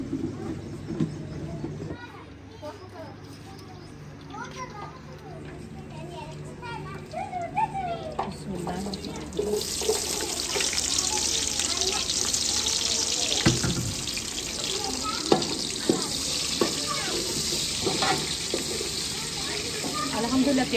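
Onions frying in spiced ghee, with a steady sizzle rising sharply after being added to the hot pan and continuing loud and close beneath occasional background voices.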